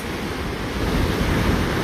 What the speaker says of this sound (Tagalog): wala po tayong marinig kundi ang ingay ng karagatan dito sa Puerto de la Cruz